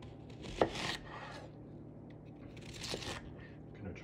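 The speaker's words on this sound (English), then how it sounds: "I'm gonna chop this up here." Ingredients being chopped on a cutting board as slow cooker prep, a few close knife strikes with soft scraping and rubbing in between, quiet and fairly sparse.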